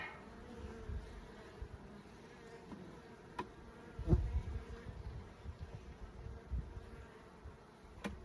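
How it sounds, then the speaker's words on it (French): A swarm of honey bees hums around a hive, a dense continuous buzzing close by with occasional louder bumps and passes near the listener. "Ça, c'était un essaim que j'avais récupéré."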